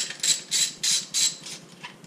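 A ratchet wrench clicks in short bursts, loosening a bolt on the exhaust of a 2017 KTM Superduke 1290R, close and clear with brief pauses between strokes.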